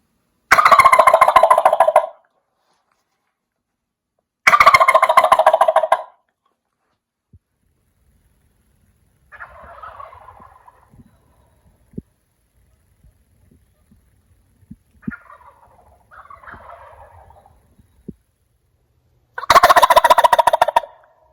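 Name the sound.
turkey gobble imitated with mouth call through megaphone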